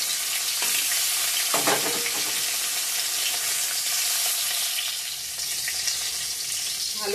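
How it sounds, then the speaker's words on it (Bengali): Pieces of previously fried katla fish reheating in hot frying oil, a continuous loud sizzle with a few stirring scrapes and no talking. "মাছগুলো একটু গরম করে নিব,"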